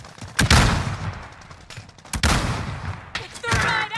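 Gunfire in Call of Duty Warzone: three loud bursts of rapid shots close by, separated by brief quieter gaps, each crackling volley fading out before the next.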